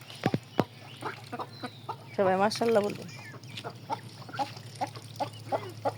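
Young ducklings make short, rapid peeping and quacking calls while being fed, with a brief louder burst in the middle and a voice speaking over them.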